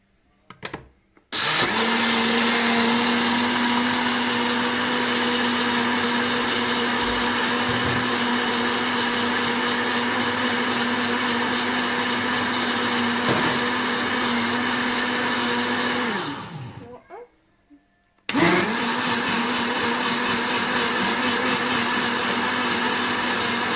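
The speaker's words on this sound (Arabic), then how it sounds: "هضرب بقى الخليط ده كويس قوي" An electric mixer beats tiger cake batter with a loud, steady motor whir that runs for about fifteen seconds, winds down and stops briefly, then starts up again at full speed.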